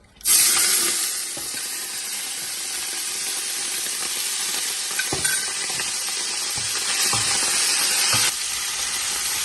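Seasoned shrimp dropped into a hot pot for spaghetti, a sudden loud hiss settling into a steady sizzle with occasional clicks and pops, close and alone.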